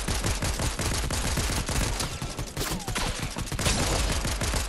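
Rapid bursts of automatic gunfire fill a Fortnite firefight, dense and continuous cracks at moderate loudness with no talk over them.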